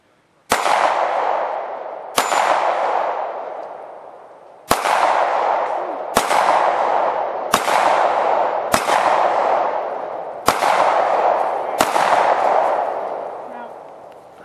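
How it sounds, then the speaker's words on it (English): Sharp .223 rifle shots ring out one after another, eight in all, each followed by a long metallic ringing decay as the rounds strike Grizzly steel targets at an outdoor range. "We're going to shoot them with a 223 rifle."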